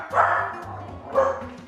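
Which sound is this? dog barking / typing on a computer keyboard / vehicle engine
dog barking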